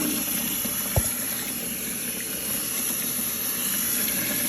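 Alkaline pH9+ water runs steadily over raw salmon being rinsed clean, a continuous splashing hiss with one brief knock early on.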